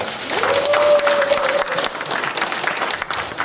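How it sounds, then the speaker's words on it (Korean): Audience applause breaks out after a speaker at a monthly fire-safety education event congratulates a retired colonel on becoming a general. The clapping is dense and sustained, with a steady tone and a few voices running beneath it. "박수 한번 쳐주세요"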